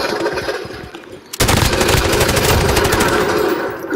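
Rapid automatic gunfire in Call of Duty multiplayer bursts in loudly and continuously, a dense machine-gun stream following a quieter stretch of game background.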